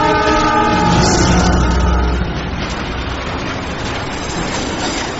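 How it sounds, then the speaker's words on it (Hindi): A train approaches on a railway track in a horror story scene. A loud horn-like tone sounds first, then gives way to a continuous rumbling rush of the train. "ट्रेन आ रही है, ट्रैक से हट जा मेरे दोस्त!"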